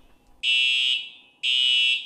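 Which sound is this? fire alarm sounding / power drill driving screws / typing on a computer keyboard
fire alarm sounding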